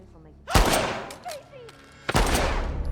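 Gunfire in the video game The Last of Us Part 2, played on Grounded difficulty: two loud, sharp shots about a second and a half apart, each ringing out with a long echoing tail, with faint game sounds in between.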